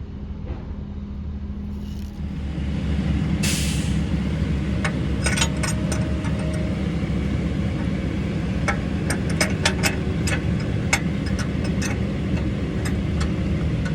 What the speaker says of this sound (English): garbage truck in the alley